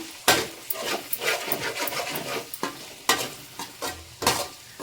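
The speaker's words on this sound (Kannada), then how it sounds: "ಹಾಗೆ ಬೀನ್ಸು ಚೆನ್ನಾಗಿ ಫ್ರೈ ಮಾಡ್ಕೊಳ್ಳೋಣ" Scraping and stirring in a pan with irregular clatters of a spatula against metal, close by, under a soft background sizzle, as beans and vegetables are stir-fried for paneer fried rice.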